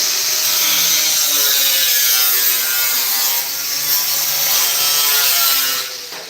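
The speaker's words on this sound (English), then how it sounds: "I'm going to take a cutoff wheel and we're going to cut this right down here." A cutoff wheel slicing through metal gives a loud, continuous high-pitched grinding whine with a rough rasping edge. It holds steady for about six seconds and then eases off at the end.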